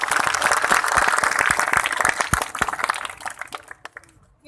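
Applause from the crowd at a political speech in Pakistan, a dense wash of clapping that stays loud for several seconds and then thins into a few scattered claps before fading out.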